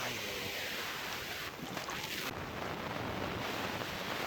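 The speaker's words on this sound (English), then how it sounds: "Water just flowing." Floodwater from Hurricane Eta rushes steadily toward the Everglades, a constant broadband wash with wind buffeting the microphone throughout and no talking.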